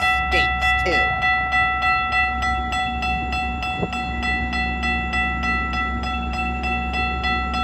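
MP40 GO Transit locomotive 618 pulling out of Bradford GO station, a steady low diesel rumble with sustained tonal hum and faint rail clatter. A brief sharp clank sounds midway, and the engine noise stays constant throughout.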